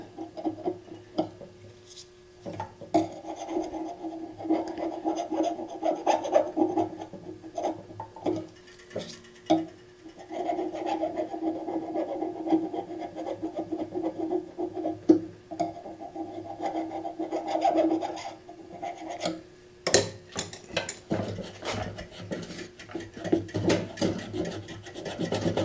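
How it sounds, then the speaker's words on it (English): Gasket scraper rasping old gasket material off a 1985 Honda Shadow motorcycle gas tank, repeated close gritty strokes in uneven bursts with brief pauses, continuing steadily over about twenty-five seconds. "There's a gasket scraper to clean this off"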